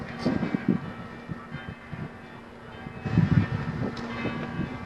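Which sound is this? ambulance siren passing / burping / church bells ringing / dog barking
church bells ringing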